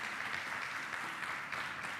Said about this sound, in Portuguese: Dá um aplauso aí para o Espírito Santo que nos ajuda com isso.